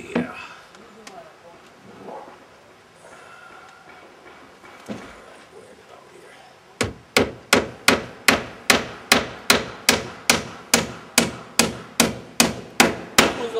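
A hammer drives nails into wooden roof framing, about seventeen sharp, evenly spaced strikes ringing out close and loud in the second half, after a stretch of quieter shuffling and talk.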